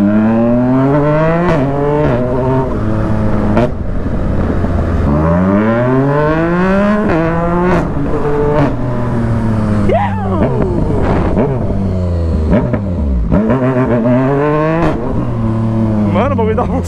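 A brand-new Yamaha MT-09 motorcycle with a Jeskap aftermarket exhaust revs and accelerates hard, engine pitch repeatedly sweeping up through the gears and dropping back, loud and close, with a rider talking excitedly over it.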